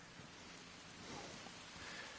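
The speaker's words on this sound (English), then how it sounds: "Oh god, it's raining." Steady, soft hiss of video game rainfall, an even wash of noise that swells slightly midway, faint and continuous with no voices.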